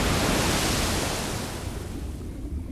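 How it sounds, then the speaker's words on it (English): Broad rushing water splashes in Elden Ring, loud and close at first, then fading and thinning toward the end, with no voices. "I hear a lot of splooshing."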